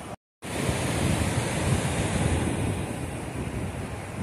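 Ocean surf at Praia Grande beach, a steady, loud wash of breaking waves mixed with wind buffeting the microphone, continuous after a brief dropout at the start, with no voices.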